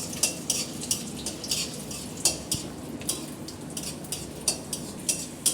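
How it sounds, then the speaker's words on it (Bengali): Chopped garlic frying in a pan, a soft steady sizzle broken by repeated sharp scrapes and clinks of a metal spoon stirring against the pan, close and clear with no talking. "এইবার আমি দিয়ে দেব দুকুয়া রসুন কুচি। দেওয়ার পর একটু ভেজে নেব।"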